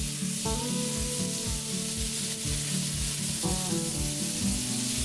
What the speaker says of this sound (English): Okay, we're going to take a quarter stick of butter. Get that dissolving a little bit.